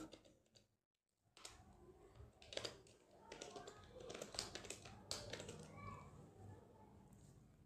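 Computer keyboard typing, steady clustered keystrokes close by while Python code is entered, with a brief pause near the start and soft background noise.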